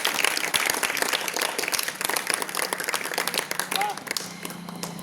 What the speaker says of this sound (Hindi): वाह, प्रेम से जोरदार ताली, जोरदार ताली